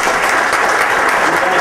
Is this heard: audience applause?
yes